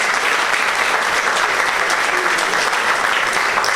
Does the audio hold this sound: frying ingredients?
no